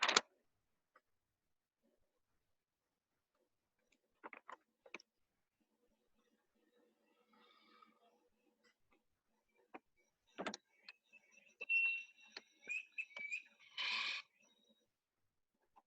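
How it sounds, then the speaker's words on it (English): A broadbill bird calling during its display flight in a Ugandan forest: sparse, quiet clicks and short buzzy bursts separated by silence, with a louder run of rattling, trilled notes toward the end. "you can actually hear the vocalizations from the bird while they're displaying"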